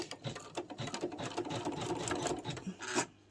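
An MC9900 embroidery sewing machine stitches a name into fabric for an Easter basket, a quick, even rattling chatter of needle strokes, close but fairly quiet and alone.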